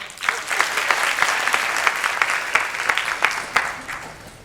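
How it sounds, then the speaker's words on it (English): An education audience at a talk gives itself a round of applause, a sustained crowd of many hands clapping with scattered sharper individual claps standing out, steady and close, with no voices over it. "Give yourself a round of applause."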